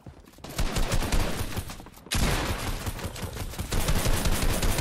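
Rapid bursts of gunfire from a Fortnite Season 7 tournament match, dense overlapping shots and fusillades running continuously and loudly, swelling sharply partway through, with no speech.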